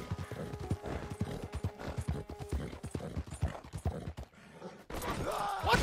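Horse hooves clip-clop in a steady rhythm in Red Dead Redemption 2, with creaks and faint game ambience around them, then the hoofbeats break off into a brief lull before a noisier burst of movement.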